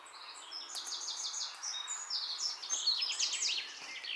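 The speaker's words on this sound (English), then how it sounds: "There's birds here. As you can hear, I can hear them." Small birds sing continuously in a large forest near an abandoned farmhouse, with bright, rapid chirps and trilled phrases rising and falling at moderate distance over a quiet background, no talking.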